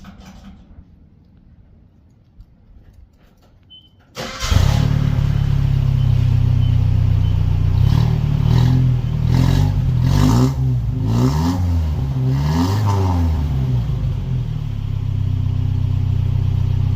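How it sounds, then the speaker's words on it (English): A 1985 Nissan 720 solid-axle pickup cranks and fires after a quiet moment, settling into a loud, close, rumbling idle through its exhaust with several quick throttle blips rising and falling before holding steady. "You'll be able to hear the exhaust."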